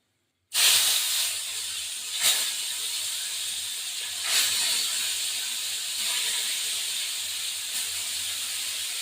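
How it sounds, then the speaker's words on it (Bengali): Several koi fish go into hot oil at once, starting a sharp hissing sizzle that settles into a steady frying sound with a few brief louder spurts of spatter, and nobody speaks. "আবার এই যে কটা মাছ আছে সবগুলো দিয়ে দেবো ওর মধ্যে।"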